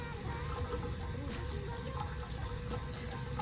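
Water runs steadily from a sink tap for wetting hair, a continuous moderately loud rushing stream with a low background hum and no speech.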